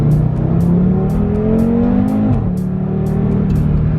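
A 2018 Audi RS3 with a 2.5-litre TFSI five-cylinder, stage 1 tuned to 510 bhp, growls with a deep, rumbling exhaust note, its pitch rising under throttle and then dropping briefly as the revs settle, close and loud throughout.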